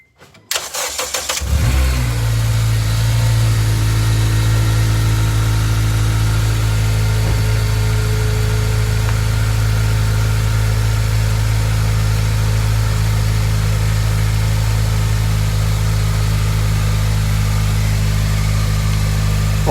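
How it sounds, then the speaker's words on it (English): A Honda Civic Si engine cranks and catches near the start, then settles into a steady, loud idle that runs on evenly with no talk, a low continuous hum dominating throughout. "let's start the engine just to see if there's any leak"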